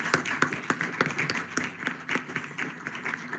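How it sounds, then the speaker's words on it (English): Audience applause at a science forum event celebrating astronomy collaboration between South African partners, a steady patter of many hands clapping at moderate level, fairly dense and even throughout. "let's give them a round of applause."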